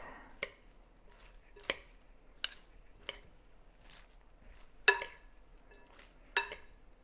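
Homemade coleslaw being mixed by hand in a bowl: a handful of separate, crisp clinks and wet tosses spaced about a second apart, quiet in between, with no talk.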